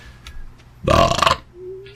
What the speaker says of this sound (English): How's that burp, future self?